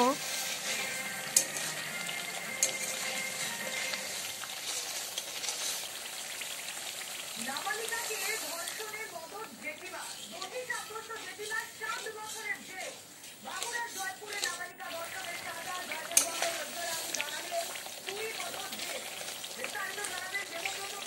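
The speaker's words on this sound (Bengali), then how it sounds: "সমস্ত কিছু মিশিয়ে নিয়ে মশলা খুব ভালোভাবে কষিয়ে নেব" A spice masala fries with a splash of hot water for a vegetarian potato and soybean curry, sizzling and crackling steadily at moderate volume, with stirring scrapes and a voice talking over it now and then.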